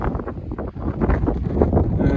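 Wind buffets a microphone on an exposed mountain summit in the Yorkshire Dales, a steady loud rumbling roar with gusty surges and no voices.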